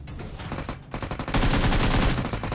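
Rapid gunfire in PUBG Mobile, including an SKS rifle: a loud burst of close shots, a brief pause, then a sustained dense volley of rattling automatic fire.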